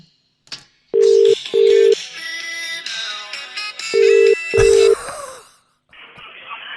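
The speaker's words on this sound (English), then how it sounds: "it seems that your phone's ringing" An outgoing phone call rings back during a New Zealand radio fishing show, with two double-ring tone bursts a few seconds apart, loud and steady over busy background sound.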